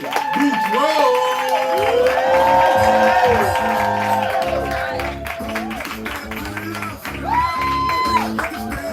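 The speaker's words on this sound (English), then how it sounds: "We clap up, we build an energy, make all the noise for Jade Boudreaux." A poetry slam crowd welcomes the next poet with loud cheering, shouting and whoops over clapping, while music with a steady bass beat plays underneath. The noise swells in the first seconds and then eases slightly.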